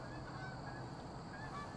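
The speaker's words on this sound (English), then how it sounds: "Geese. We're surrounded." A flock of geese honks continuously all around, a dense, steady chorus of overlapping calls with no pauses, heard at a distance and fairly faint.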